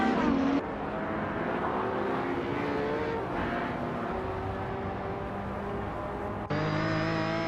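Porsche 911 GT2 and GT1 race cars roar through a video-game race, a steady, loud engine drone with rising and falling pitch and a sharp gear change near the start and again near the end.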